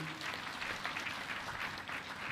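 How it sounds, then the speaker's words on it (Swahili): Applause from a seated audience of dignitaries at an official Tanzanian state ceremony, a steady fairly faint wash of many hands clapping with no talk. "makofi mengi"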